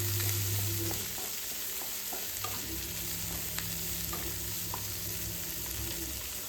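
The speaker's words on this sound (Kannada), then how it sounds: "ಅದನ್ನು ಹಾಕಿ ಚೆನ್ನಾಗಿ ಫ್ರೈ ಮಾಡ್ಕೋತಾ ಇದ್ದೀನಿ" Curry leaves frying in a pan give a dense, close crackling sizzle with scattered pops and a few stirring scrapes, steady throughout with no voices.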